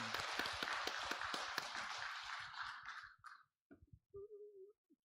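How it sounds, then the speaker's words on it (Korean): A congregation at Ulsan Baptist Church applauds during an Easter Sunday worship service, with dense hand clapping from many people that fades out after about three seconds, followed by a brief sustained tone. "부활하신 주님께 영광의 박수를 함께 올려드리도록 하겠습니다"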